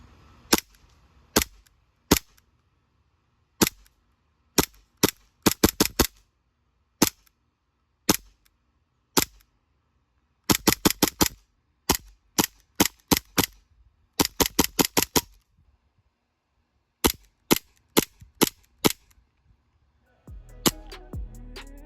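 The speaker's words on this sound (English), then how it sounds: "here's just a couple quick clips of the gun shooting so that you can see what it's all about" An EMG STI DVC 2011 airsoft hi-capa pistol fires sharp, snappy pops, some single and some in quick clusters of three to five, close and clear against near silence, ending with a brief muffled handling noise.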